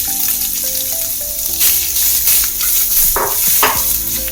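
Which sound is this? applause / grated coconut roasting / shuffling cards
grated coconut roasting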